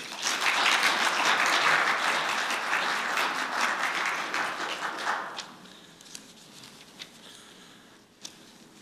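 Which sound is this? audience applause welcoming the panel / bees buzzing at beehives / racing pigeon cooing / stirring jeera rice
audience applause welcoming the panel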